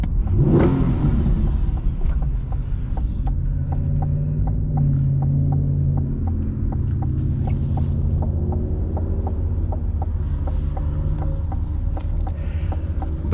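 A Chevrolet Corvette C8 Stingray 1LT with a 6.2 liter engine driving, heard as a steady, loud low engine drone with a soft rhythmic ticking throughout and no talking.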